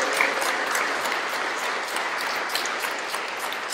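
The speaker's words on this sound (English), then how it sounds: "Give this young man a round of applause for his incredible work." An audience at a senator's public event in Gardena, California gives a round of applause, dense steady clapping from many hands, moderately loud throughout with no voices over it.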